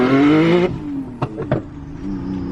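A modified Nissan 370Z engine rises loudly in pitch under hard acceleration, then cuts off abruptly, followed by a couple of sharp clunks and a quieter lingering drone.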